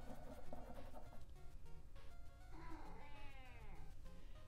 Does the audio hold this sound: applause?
no